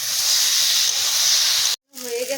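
Tomatoes go into a hot pan for a jackfruit-style fish curry, giving a loud, steady sizzling hiss that cuts off abruptly near the end, then resumes more softly with a faint voice in the background.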